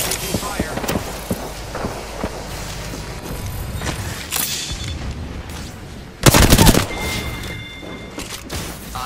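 Incoming gunfire aimed at the player in a video game: scattered cracks and thumps build to one loud, dense burst of shots, with game noise and a voice talking throughout.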